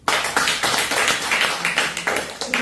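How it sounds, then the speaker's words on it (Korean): An audience claps together at a presentation praising a company for hosting its leaders at headquarters, a dense, steady patter of many hands that holds for a couple of seconds. "박수 한번 주시죠"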